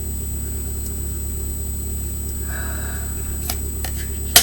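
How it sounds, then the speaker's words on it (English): A neighbour's loud car gives off a low, steady engine rumble from outside, faint and distant, with no one speaking. "My annoying neighbor in their loud car."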